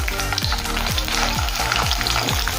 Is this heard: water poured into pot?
no